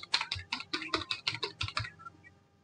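An Aadhaar number being entered on a computer keyboard: a rapid run of about a dozen crisp, close key clicks in an even rhythm, then stopping, with no talking over it.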